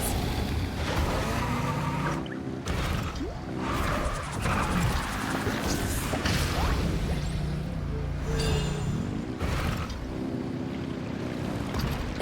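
In Genshin Impact, vehicle engines rev in a steady roar with whooshing rushes and crashing impacts, mixed with game music throughout and no voices.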